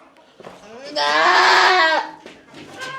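An Angora goat held in a stanchion during lice treatment gives one long, loud, wavering bleat, close by, with quieter murmured voices before and after.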